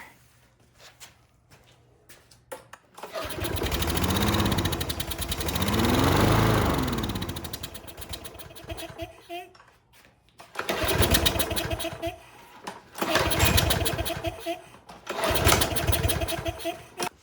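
A Troy-Bilt lawn mower engine running with its air filter removed starts up and runs unevenly, surging and dropping in loud bursts, with brief quiet gaps where it falters before revving again.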